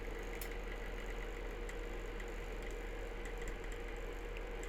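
The motor of a Hornby E2 model shunter locomotive runs on track, giving a faint, steady mechanical whir and gear chatter with a low hum underneath, continuous and without any voices.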